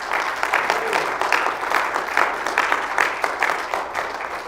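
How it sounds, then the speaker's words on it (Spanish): Spanish-speaking church congregation giving a strong round of applause in worship, loud close clapping in rolling waves that hold steady across the few seconds, voices faintly blended in. "den un fuerte aplauso al que vive"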